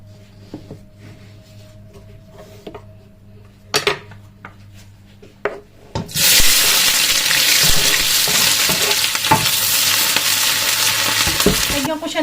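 Food hits a hot pan with a loud, sudden sizzle that continues steadily while a utensil scrapes and clatters against the metal. Before the sizzle there are scattered clinks and knocks of pots and cutlery in a quiet kitchen.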